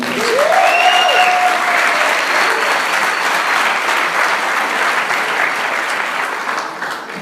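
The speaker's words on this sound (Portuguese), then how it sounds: "parabéns, pode aplaudir" Sustained applause from a church congregation during a sermon, a dense even wash of clapping filling the hall, with a brief whistle-like tone near the start.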